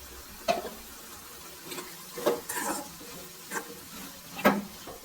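Capsicum curry with red chilli powder being stirred in a pan, a soft sizzle broken by several scraping strokes of the spoon at an irregular pace, close and fairly quiet.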